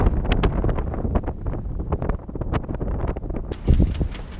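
Strong wind buffets a sailboat lying at anchor during a mistral, with loud gusty roaring, rumbling and repeated rattling knocks throughout and no voices.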